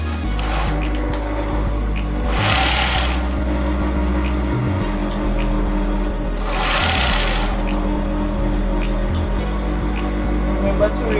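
A sewing machine runs steadily and close while stitching along a shirt collar from one end to the other, a continuous mechanical hum with two louder swells, and a person talks over it.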